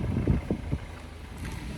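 Low, blustery wind rumbling against the microphone outdoors on overcast Chios island, Greece, with soft gusts and a steady buffeting roar near water.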